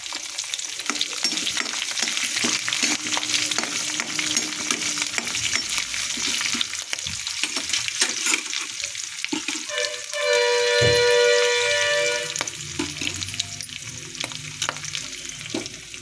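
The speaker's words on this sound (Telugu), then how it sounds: "తెల్లగడ్డ పాయలు వేసుకుందాము. అది మాడకుండా అటు ఇటు కలబెడుతూ ఉండాలి." Garlic cloves fry in hot oil in a pan and are stirred back and forth, a steady loud sizzle with scraping stirs throughout and a brief metallic ring partway through.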